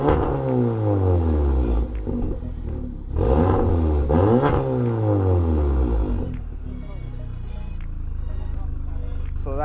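Audi S3 fitted with an Army Trucks exhaust revving hard, with repeated rising and falling blips, loud and close, before settling to a rumbling idle near the end.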